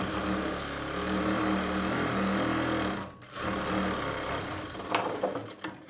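Sewing machine stitching a blouse lining, a close steady motor whir for about three seconds, a brief pause, then more stitching that ends with a few light clicks.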